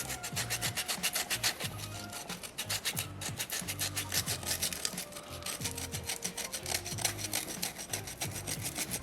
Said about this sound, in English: now I'm going to start to grind this rock away here